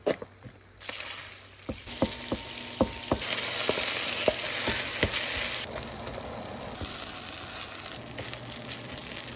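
Rice stir-fried in a pan to cook off the moisture, a continuous sizzle with repeated sharp scrapes and taps of the utensil against the pan, close and steady with no talking.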